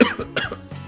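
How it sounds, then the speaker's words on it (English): A girl in a classroom gives a short burst of two or three close coughs, fairly quiet, with no talking. "So every once in a while, she would cough to herself during the lesson."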